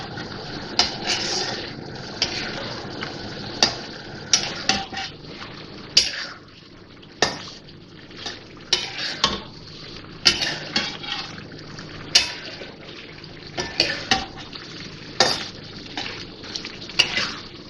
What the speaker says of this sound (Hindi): क्रीम डालने के बाद मैंने इसको मिक्स कर दिया है।